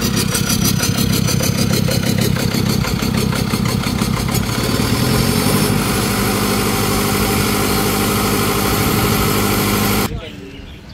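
An Isuzu 1.9 diesel engine drives a 22 kVA generator on a farm power rig, idling with a loud, steady throbbing drone for about ten seconds before cutting off abruptly into near silence.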